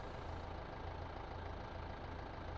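A tractor engine idles in Farming Simulator 15, a steady low rumbling drone that holds evenly throughout, close and continuous with no talk.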